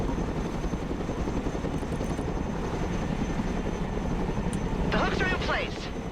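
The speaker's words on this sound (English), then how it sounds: "Let's go and recover it with our helicopter." A cargo helicopter in the video game Broken Arrow drones with a continuous, even rotor and engine roar, and a short burst of radio-style voice chatter cuts in near the end.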